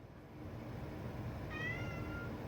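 A cat meows once, a clear drawn-out call heard fairly close over a steady low background hum.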